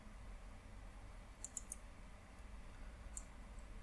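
A computer mouse is right-clicked, giving a few faint, sharp clicks close by against a low steady hum, with no talking.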